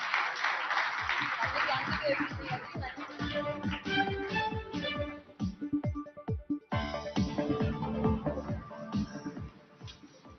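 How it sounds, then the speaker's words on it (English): Audience applause for a panel at a business summit on wealth creation, a full room of clapping heard close and steady, with scattered individual claps standing out and a brief dip before the applause swells again. "Ladies and gentlemen, a very warm applause for our panel."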